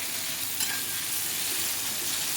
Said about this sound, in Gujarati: આપણે હવે કાંદાને થોડીક વાર ફ્રાય થવા દેવાનું છે